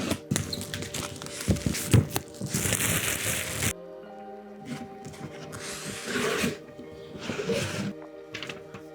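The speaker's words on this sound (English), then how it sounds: "Let's unbox it." Packaging of a Thermalright Elite Vision 360 liquid cooler being opened, with close crinkling, rubbing and tearing of cardboard and plastic in bursts, a louder stretch early on, then quieter handling with brief rustles.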